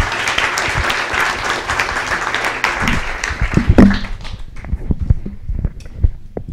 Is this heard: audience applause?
yes